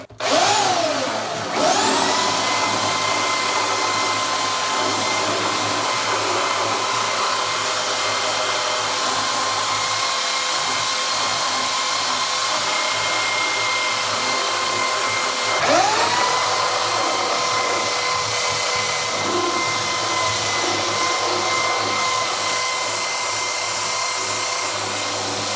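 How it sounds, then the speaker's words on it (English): A belt sander resurfacing a bathtub in a rental property runs as a steady, loud motor whine for the whole stretch, with a brief dip and spin-up partway through and no voices. "Just use a belt sander."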